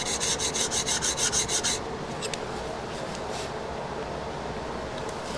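A hand plane blade is rubbed back and forth on a diamond sharpening plate, giving a rhythmic, close rasping scrape of even strokes that stops partway, leaving a quieter steady rub and faint hiss.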